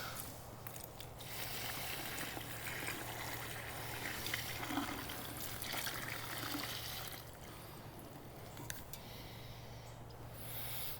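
Starch water pours steadily from a container into a bucket in a garden, a continuous, moderately close splashing trickle that lasts the whole stretch with no talking over it.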